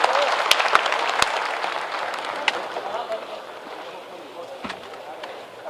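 Loud applause from an audience at a Bihar government event as the Additional Chief Secretary of Education presents a memento to the Chief Minister, a dense clapping wash with brief sharp peaks that gradually softens, with voices mixed in.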